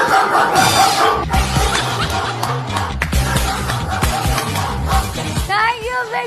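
A person imitates a dog barking with a series of voiced bow-wow calls, loud and close, mixed with other voices and laughter.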